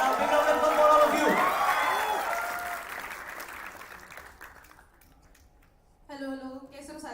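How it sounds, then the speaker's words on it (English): A crowd at a university induction program bursts into loud, dense applause. The clapping gradually thins and fades over several seconds, then a voice briefly starts speaking. "a big round of applause for all of you"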